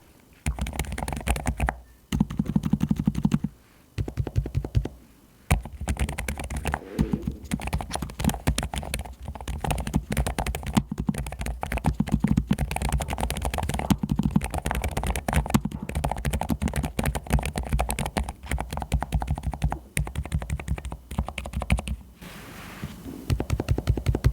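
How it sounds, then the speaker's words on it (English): Continuous soft clicking of a low-profile mechanical keyboard being typed on, quick uneven bursts with a few short pauses, close up and alone. "let me do a quick sound test for you so that you can hear exactly what I'm talking about"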